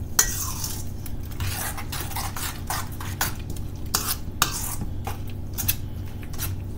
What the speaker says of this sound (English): So I'll give that a stir